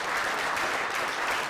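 Shy, steady clapping from a seated audience at an entrepreneurship programme launch, a dense even patter of hands lasting the whole moment with no voices over it.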